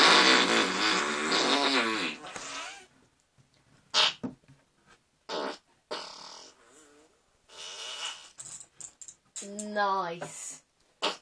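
A man imitates a fart with his mouth, making a long, loud, wet and rasping blast at the start, followed by scattered short spluttering bursts and a final buzzing tail.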